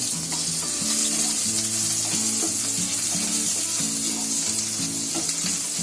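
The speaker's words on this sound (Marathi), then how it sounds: "आता त्याच्यामध्ये 1 चमचा मिरची आणि 1 चमचा लसूण" Chopped green chilli and garlic cloves crackle and sizzle steadily in hot oil for a vegetable Maggi, a dense continuous frying hiss with no voices.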